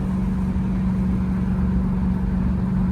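A 1967 Chevrolet Camaro Convertible's engine idles with a steady, low rumble, even and close, with a constant hum and no revving or speech.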